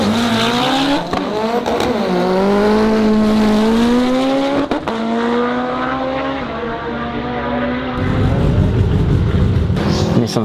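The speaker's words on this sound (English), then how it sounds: "Nissan Sunny, drag car, 4-wheel drive, big precision turbo, and the 4G63 engine." A turbocharged four-wheel-drive Nissan Sunny drag car with a 4G63 engine revs hard and holds a loud, rising drone, pitch climbing and shifting, then breaks into rougher noise near the end, at a drag racing event in Mantorp, Sweden.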